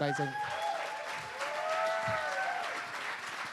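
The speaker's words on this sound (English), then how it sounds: "So can you just give Annie a round of applause?" Conference audience giving a round of applause, dense steady clapping filling the room, with a speaker's voice briefly audible at the start.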